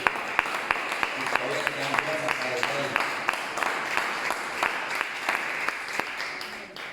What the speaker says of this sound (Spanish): aplauso a Dios